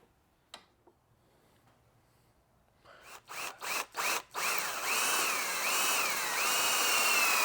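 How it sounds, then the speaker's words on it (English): After a couple of faint clicks, a hand drill starts in short bursts, then runs in a steady, close, whining grind while boring a hole in a paramotor frame tube. "drilling this by hand."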